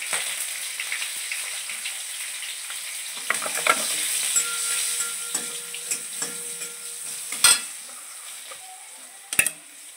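Garlic and turmeric powder fry in hot oil in a pan, giving a steady soft sizzle with light stirring scrapes and a couple of sharp clinks near the end, no voices.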